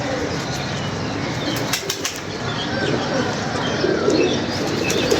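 A flock of pigeons in flight, wings flapping as a continuous rushing flutter in the open air, with a few brief chirps, no voice heard.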